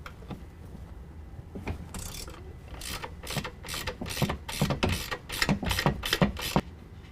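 Ratchet loosening the top nuts of a strut assembly on a 2019 Dodge Ram 1500, with bursts of rapid clicking pawl sounds that grow busier and closer, heard alone.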